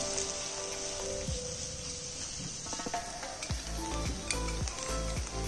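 Mixed vegetables with long shredded cabbage fry for veg manchurian, giving a steady close sizzle broken by a few stirring scrapes, with no talking.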